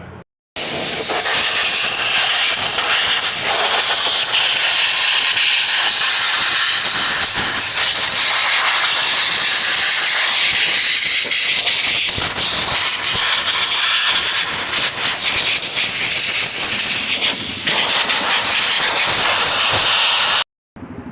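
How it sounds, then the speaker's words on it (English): Compressed air blasts dirt off a Traxxas nitro RC car, a loud, continuous close-up hiss running almost unbroken for about twenty seconds with slight fluctuations in strength. "Next step is use compressed air, start blowing all this off"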